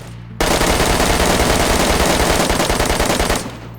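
M4 rifle in DayZ firing full-auto at 900 rounds per minute, a loud continuous rapid burst of shots lasting about three seconds after a brief lead-in, then cutting off.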